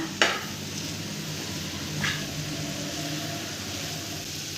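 Squid fry sizzling steadily on a hot tawa with curry leaves, a constant close frying hiss broken by two brief scraping stirs of a utensil.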